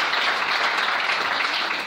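Dense, steady applause from a church congregation acclaiming the Lord, a full wash of many hands clapping together, loud and sustained without any break.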